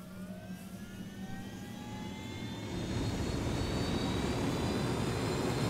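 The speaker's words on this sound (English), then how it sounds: "we're gonna need a chopper for this one" A helicopter flying in the Ghost Recon Wildlands video game gives a continuous engine and rotor roar that holds steady and then swells louder partway through, with no talking.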